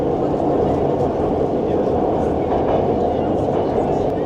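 Metro train in Tehran, Iran, rolling along with a steady loud low rumble and faint rail clatter throughout, heard from inside the carriage.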